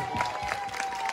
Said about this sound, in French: Alors applaudissez très très fort,